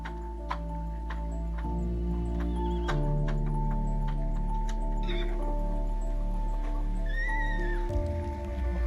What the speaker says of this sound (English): A foal panics and jumps over the barrier to her mother, gets caught and kicks.